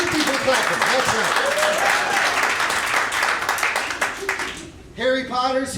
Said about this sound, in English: Two people clapping